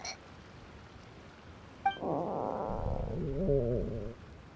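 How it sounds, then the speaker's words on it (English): A low, wavering gurgle that swells and churns for a couple of seconds after a short chime-like blip, a cartoonish stomach growl from Genshin Impact. "That would be my stomach growling."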